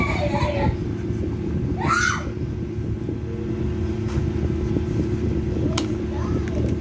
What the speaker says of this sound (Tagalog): Ayun yung anak ko naglalaro, sumisigaw.